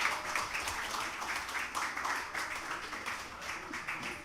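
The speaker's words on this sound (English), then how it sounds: "So I want a big round of applause that everyone can hear." Broadband crowd noise from an audience at a public talk, with steady overlapping hand claps sustained throughout at moderate, even loudness, apparently a continuous round of applause.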